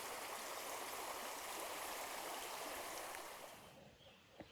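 Lick Creek rushes steadily at a shallow river ford, a dense, continuous broadband wash of moving water that fades near the end, leaving a few faint splashes and no voices.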